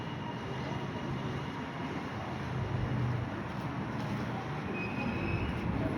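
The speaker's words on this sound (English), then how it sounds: "Another V-line train." A low, continuous rumble of a passing V/Line passenger train at moderate distance at West Footscray, steady throughout with faint higher rail noise, no talking.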